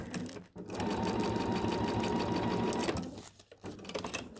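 A sewing machine stitching a vinyl bag runs in a steady close whir for roughly two and a half seconds, with brief handling noises and a pause before and after the run.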